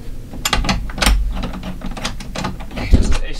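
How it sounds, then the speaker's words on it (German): A ratchet tightens the mounting screws of a lithium battery in a caravan, giving a close, loud run of rapid clicking strokes with short pauses between bursts. "Gehen wir mal hier unten hin und schrauben die Batterie wieder fest."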